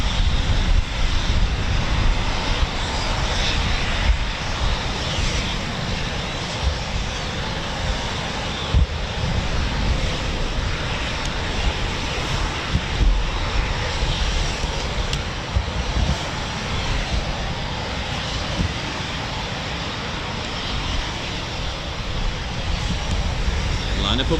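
A Eurofighter Typhoon FGR4 jet of 29 Squadron roars continuously at an air show, a broad, steady rumble mixed with wind buffeting on the microphone.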